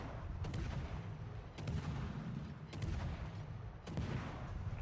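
USS Austin, a World of Warships cruiser, firing its guns without the reload booster: four evenly spaced booming salvos about a second apart, each with a sharp crack and rumbling tail, distant and muffled.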